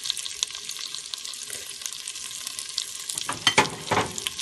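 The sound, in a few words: shrimp stir-frying in butter, oil and garlic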